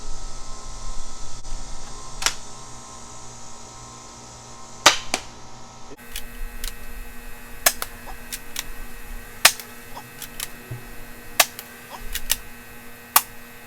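An Adventure Force Deuce Pro toy blaster having its action cycled, giving a series of sharp plastic clicks and snaps spaced irregularly over a faint steady hum, close up, with no talk.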